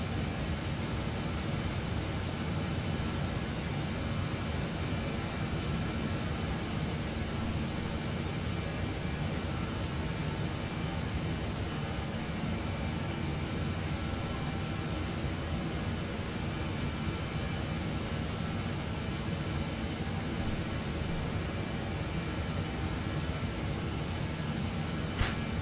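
A Just Flight 146 jet airliner cruises over the sea in Microsoft Flight Simulator 2020, its engines giving a steady, unbroken roar with no talking.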